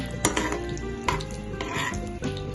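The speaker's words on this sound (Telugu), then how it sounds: "ఇప్పుడు ఈ నేతిలో మాడకుండా మీడియం ఫ్లేమ్ లో పెట్టి వేయించుకోవాలి" Corn paste sizzles and fries in ghee in a kadai, with a soft steady crackle and a few sharp scrapes and taps of a spoon stirring against the pan.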